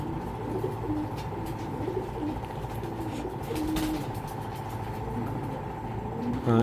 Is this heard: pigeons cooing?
yes